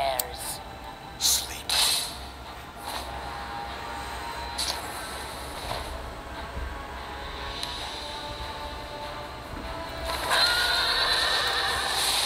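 A horse whinnies briefly over steady game background sounds, with people talking intermittently.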